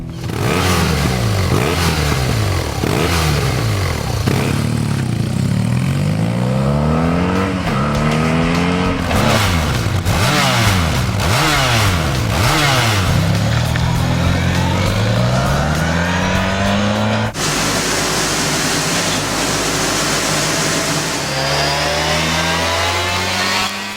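2012 Honda Crosstourer and BMW R1200GS motorcycle engines roar loudly and continuously, revving up and down through the gears, with a sharp change in engine tone near the end.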